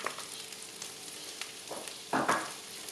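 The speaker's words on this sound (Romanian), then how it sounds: "Uleiul s-a încins, acum adăugăm cârnații." Sausages and peppers fry in hot oil in a pan for a pepper and sausage omelette, a steady soft sizzle that swells into a louder burst of crackling near the end, with no voices.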